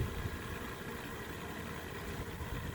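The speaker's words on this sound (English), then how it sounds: "So the motor is pumping." A small 12-volt pump motor runs steadily while flushing an AquaHot hydronic boiler in an RV, giving a continuous low hum and vibration at even loudness with no talk.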